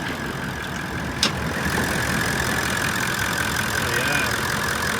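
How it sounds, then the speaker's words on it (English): A Toyota Land Cruiser engine idles steadily with the bonnet open, a constant mid-pitched hum heard close up, with a brief click and someone speaking over it. "I've got the engine running."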